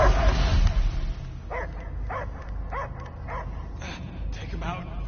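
A dog's short whimpering barks and yips come in a quick series in Guardians of the Galaxy gameplay, heard over a low rumbling game background after a loud opening burst.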